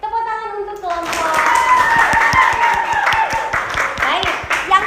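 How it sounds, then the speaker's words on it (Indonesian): Junior high school students clap in a classroom for a student group, a rhythmic run of brisk unison claps following a teacher's voice, with children's chatter mixed in. "Tepuk tangan untuk kelompok."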